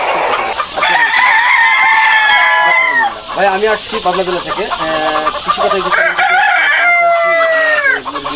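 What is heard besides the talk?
chickens clucking and a rooster crowing on a poultry farm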